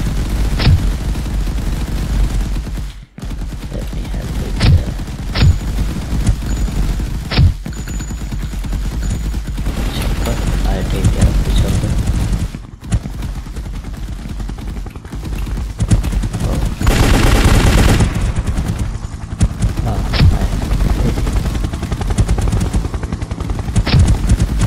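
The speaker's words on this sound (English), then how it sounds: "allies are helping me by shooting the enemies, and the chopper is coming" Bursts of gunfire crackle throughout a combat scene in an Unreal Engine ALS shooter video game, with rapid automatic volleys and single shots over the steady rotor drone of an approaching helicopter.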